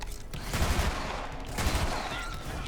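Gunfire from the video game Borderlands 3, a short flurry of rapid repeated shots in two clusters over a constant dense background of game sound.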